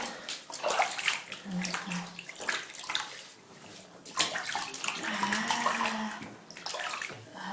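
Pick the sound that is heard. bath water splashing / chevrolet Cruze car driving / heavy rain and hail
bath water splashing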